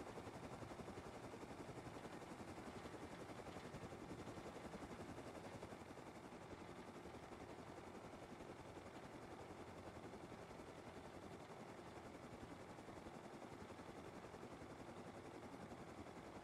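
A helicopter in the survival game Rust flies steadily, its constant rotor and engine drone filling the space evenly and continuously without pause or any talk over it.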